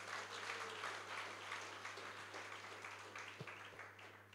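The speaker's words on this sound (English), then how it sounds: "Let us give a hand clap to the Lord." A church congregation claps steadily in praise during a worship service, a faint, dense wash of hand claps over a low electrical hum that thins slightly toward the end.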